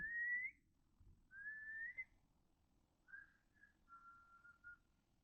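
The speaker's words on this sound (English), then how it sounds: "there's like whistling over here" Several faint, distant whistled notes in a slow, uneven sequence, the first rising and the later ones shorter, over quiet outdoor background.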